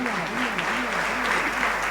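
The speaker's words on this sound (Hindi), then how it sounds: "उस पाठशालाओं में जितनी बहनें निस्वार्थ भाव से सेवा कर रही हैं उनके सम्मान में तालियां" An audience claps in honour of the sisters volunteering at the schools during a 2024 monsoon retreat gathering in Guna, a steady wash of applause with a voice or hum sounding over it throughout.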